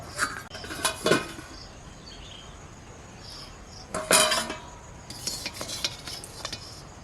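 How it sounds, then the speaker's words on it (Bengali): Metal lid lifted off a pot and utensils scraping inside while homemade paneer made from papaya is taken out, giving a few close clinks and scrapes in separate bursts, no voice. "এবার ঢাকনা খুলে পনিরটাকে বার করে নেব।"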